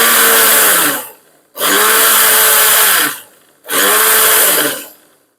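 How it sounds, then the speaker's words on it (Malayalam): A kitchen mixer grinder blends ingredients in three loud, close bursts of high-pitched whirring, each running about a second and cutting off before the next. "എന്നിട്ട് നമുക്ക് ജസ്റ്റ് ഒന്ന് മിക്സിയിൽ അടിച്ചെടുക്കാം"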